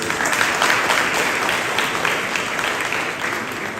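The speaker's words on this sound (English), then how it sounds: "the applause is not loud enough" Audience applause at a press launch for a football cup at a private residence, an even, sustained patter of many hands clapping at moderate loudness throughout.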